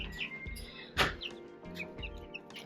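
Button quail chicks and young chickens chirp in a brooder, a busy scatter of thin high peeps and tweets close by at low volume, with one brief louder rustle in the middle.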